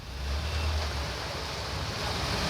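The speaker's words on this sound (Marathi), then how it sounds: "धुरंडीमध्ये पावसाची ही जोरदार बॅटिंग आपण बघतोय" Heavy rain pouring in a town street during a downpour with knee-deep water on the road, a dense continuous roar of water with low rumbling underneath, steady and loud throughout.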